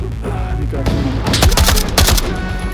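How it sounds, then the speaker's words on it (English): AKM rifle gunfire in the VR game Onward, fired indoors: a rapid cluster of loud, close automatic shots layered over game noise and a speaking voice. "Shooting inside as well."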